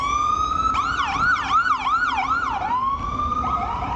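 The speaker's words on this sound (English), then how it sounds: "First thing you need to do is wait for the ambulance to pass." Ambulance siren in New York City traffic, wailing up and down in rapid yelp cycles, fairly close and loud, then easing into a slower wail as it passes, with street noise underneath.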